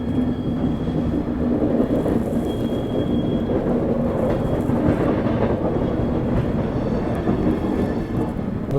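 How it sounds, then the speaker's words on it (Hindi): Prayagraj Express passenger train running from Subedarganj station, a steady loud rumble of wheels and carriage noise throughout with no pauses, no voices. "यहाँ पर डिपार्ट कर चुकी है अपनी प्रयागराज एक्सप्रेस जो है सूबेदारगंज रेलवे स्टेशन से"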